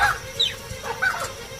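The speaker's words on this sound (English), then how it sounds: "Mongooses are quick to warn of danger, and the baboons respond swiftly to their chirping alarm calls." Mongooses give a quick series of high, sharp chirping alarm calls in the wild. The calls are short and bird-like, scattered over a faint outdoor background.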